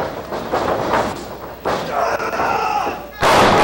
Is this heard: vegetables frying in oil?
no